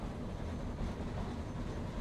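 A train from the video game Outlaws of the Old West rumbles past, a faint, steady low rolling clatter lasting a couple of seconds with no voices.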